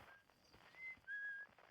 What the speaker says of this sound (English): there's the whistling.